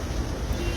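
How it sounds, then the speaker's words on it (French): Cool wind buffets a scarf outdoors, a steady close rushing and flapping noise that fills the whole short moment without any voices. "Petit vent frais dans mon foulard qui semble déranger plus d'une personne."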